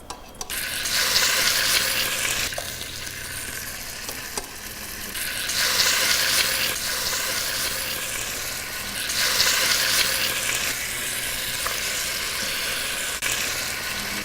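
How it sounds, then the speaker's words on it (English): Continuous hissing sizzle of chicken browning in a hot pot, swelling and easing in waves over a steady crackle. "And things are starting to sizzle, and that's what we want."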